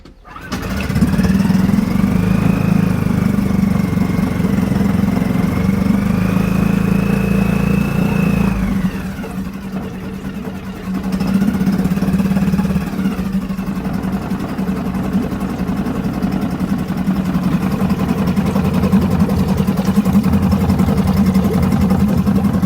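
Outboard boat engine on a stand in a test tank, choke out, is pull-started and settles into a loud, steady idle with a rising and falling pitch, running continuously close by.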